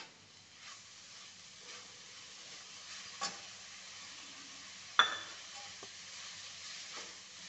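Amaranth greens sautéing with crushed peanut powder over a full gas flame: a faint, continuous sizzle with a few soft spatula stirs and one sharper clink against the pan.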